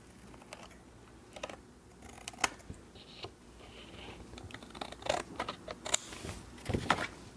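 Paper for a scrapbook layout being trimmed, with scattered crisp snips and light tapping clicks at irregular intervals over a quiet room, growing busier toward the end.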